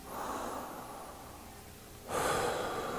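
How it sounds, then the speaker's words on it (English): Slow, audible breaths are drawn in and let out during a guided meditation, a long airy exhale followed by a sharper, louder inhale, close to the microphone with no talking. "We'll just take a few breaths here"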